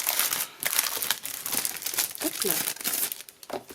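Plastic packaging is torn open and crinkled in close, sharp bursts of crackling, with a person speaking briefly over the handling.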